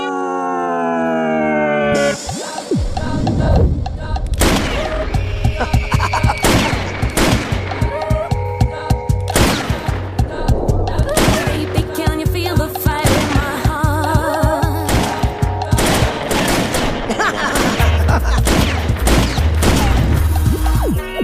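Gunfire in a Hindi comedy film scene from Housefull 5, rapid bursts and repeated shots over music and loud effects, with howl-like tones in the mix and no clear speech.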